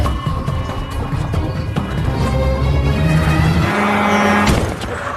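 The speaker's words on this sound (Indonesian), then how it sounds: "Peter pun harus tewas dihantam oleh sebuah truk yang melintas" A truck barrels through a film scene and strikes a man who has jumped from a flyover, loud engine roar and rushing traffic noise building steadily with a heavy impact-like burst near the end.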